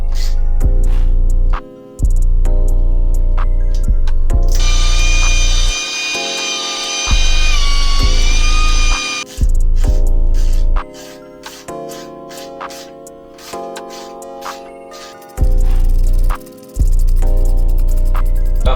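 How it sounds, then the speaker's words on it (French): A power driver runs screws into a homemade fingerboard spot in several loud bursts of whining motor, each rising in pitch and cutting off sharply, separated by short pauses. "je mets ça là-dedans. Tac. Et là c'est parti, ça visse."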